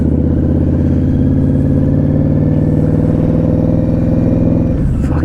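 Indian Scout Bobber motorcycle engine heard on a ride, a loud, steady, throbbing low rumble filling the whole stretch before easing off abruptly at the end.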